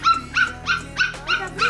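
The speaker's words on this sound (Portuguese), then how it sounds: "por que você tá latindo pra ele?" A puppy barks in a quick series of six evenly spaced, high yappy barks, close and loud, with no talk over them.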